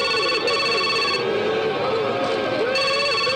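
A telephone rings loudly and continuously in a dubbed South Indian film scene, a warbling electronic tone running the whole time over a dense background.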